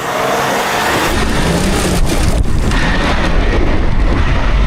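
An off-road car, Land Cruiser or Defender, launches hard off the start on a course: a loud, close engine roar bursts in and stays heavy and sustained to the end.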